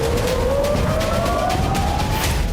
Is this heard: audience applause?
no